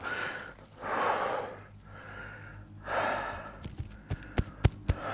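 Heavy, accelerated human breathing outdoors beside an apple tree: two long, loud rushing breaths, then a run of sharp snorts and quick clicking gasps, close and alone.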